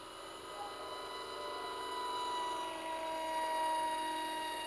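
An electric motor on a homemade RC roller airplane whines steadily in flight, a thin high-pitched buzz that slowly rises and falls in pitch as the throttle changes, moderately distant with no talking.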